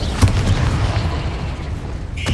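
A Confringo blasting spell goes off in Hogwarts Legacy, a sharp burst near the start over a dense, rumbling low-end of combat noise, with another bright crackling hit at the very end.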